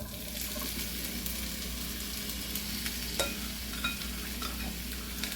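Vegetables for a pantry pasta sizzle steadily in an oiled skillet, a continuous close frying hiss broken by a few light stirring clicks and scrapes, with no voices.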